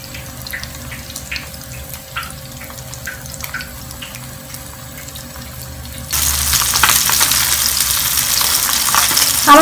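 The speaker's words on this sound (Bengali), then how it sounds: "আমি মাছগুলোকে হালকা করে ভেজে নিব।" Pabda fish frying lightly in oil in a wok: a moderate sizzle that jumps to a louder, brighter hiss and spatter partway through, with faint clinks, no talking.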